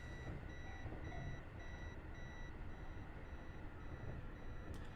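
Train Drive ATS 3 cab warning beeps ahead of a speed limit reduction, a regular series of short high tones repeating about twice a second over a low rumbling cab hum.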